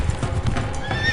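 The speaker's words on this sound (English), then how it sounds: "400 years later, over 1 million Mustangs run wild." Wild Mustang horses on the Great Plains gallop with loud, steady clip-clop hoofbeats, while a few high whinnies cut through near the end.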